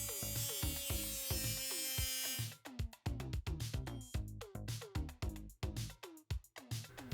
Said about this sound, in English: And then once I'm happy with that, I go ahead with the cutting wheel again and just cut these pieces out.